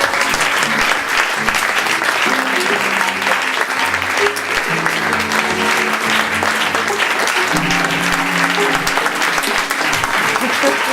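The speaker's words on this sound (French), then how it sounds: "qu'on l'applaudisse très fort parce qu'il a fait un travail magnifique aussi" A large stage audience applauds Vixus Pataglitch with loud, sustained, dense clapping that runs unbroken for about eleven seconds, while voices murmur and call out faintly underneath.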